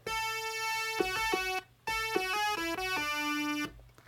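A buzzy, bright Minimoog Model D synthesizer with a sawtooth patch plays a short melodic phrase of sustained notes, alone and fairly loud, with a brief pause midway.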